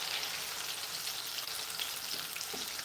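Spice sizzling and crackling in hot oil in a pan, a steady dense frying hiss with scattered pops throughout, close and alone with no voices.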